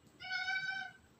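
A cat gives a single clear, drawn-out meow close by, heard alone over a quiet background during a morning coffee chat.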